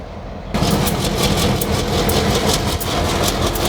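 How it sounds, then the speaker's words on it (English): A train rumbles past at close range on a snowy night, a loud, steady roar with rhythmic clacking that begins abruptly and stays dense throughout. "There's a train here."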